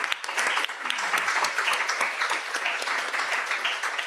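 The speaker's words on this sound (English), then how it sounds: "Can I just ask for a round of applause?" A round of applause from an evening legal-profession event audience, dense continuous clapping from a roomful of people at even volume throughout, with faint murmuring beneath.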